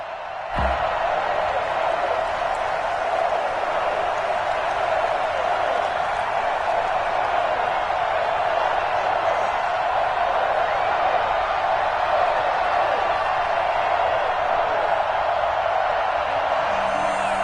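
A stadium crowd in Madden NFL before a Tampa Bay Buccaneers versus New York Giants game, a steady, dense roar of cheering that holds at an even level throughout, with no clear peaks.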